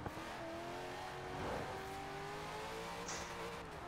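A 4-rotor rotary engine swapped into a Mazda MX-5 drones in Forza Horizon 4, a faint, steady buzzing engine tone that rises slightly and then holds under quiet game noise.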